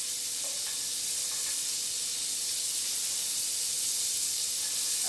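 Chopped onion frying in a hot pan over low heat for an egg omelette, giving a steady, even sizzle and hiss throughout with no voices.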